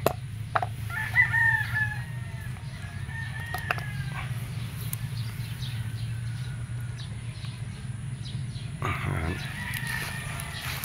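A Shamo gamefowl rooster crows on a farm, its call faint and somewhat distant over a steady low background hum, with other fowl clucking and calling intermittently across the scene.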